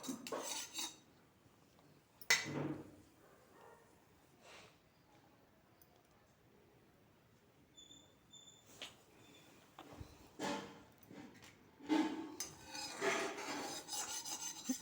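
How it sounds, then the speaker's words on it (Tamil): A cooking pan is set on a stove with scattered metallic clanks, scraping and rubbing of utensils, separated by quiet pauses, in a home kitchen making egg gravy. "இப்போ சட்டியில் சட்டி காய வச்சுட்டு எண்ணெய் ஊற்றுவோம்."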